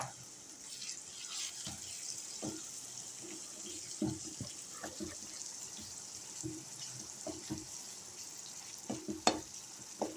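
Citron pieces cook in oil with chilli powder and salt for pickle, producing a quiet, steady bubbling sizzle with scattered soft stirring scrapes and taps throughout.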